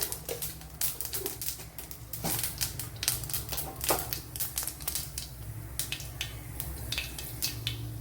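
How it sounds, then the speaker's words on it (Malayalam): Mustard seeds popping in hot oil in a pan while making a lemon and dates pickle, a dense run of sharp crackling pops close up, continuous and irregular, with no talking. "അപ്പോൾ ഇവിടെ കടുക് പൊട്ടിയിട്ടുണ്ട്"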